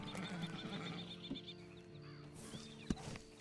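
A horse in the video game Red Dead Redemption whinnies in a short neigh, close and clear over a low rumble of game ambience, with a faint clop near the end.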